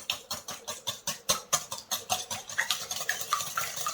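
A tomato cream sauce with tomato paste is stirred in a rapid, even rhythm of about twenty soft scraping strokes, close and moderately quiet, with no talk.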